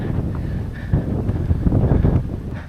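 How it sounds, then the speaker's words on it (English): Fresh wind blowing across a hiking trail on Mt. Mucheok in Korea, a steady broadband rush buffeting the microphone with gusty swells and no talking. "I can feel very fresh wind over here."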